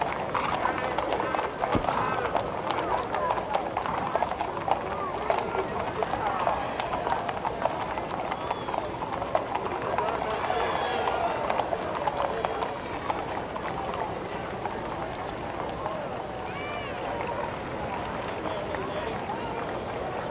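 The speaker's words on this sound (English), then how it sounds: "You can hear the hoofs on the street here of the horses." Horses' hooves clop along a street during the Cheyenne Frontier Days parade, a steady outdoor clatter under crowd noise and a voice talking over it.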